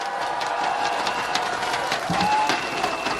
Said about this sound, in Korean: 박수 좀 부탁드립니다, 여러분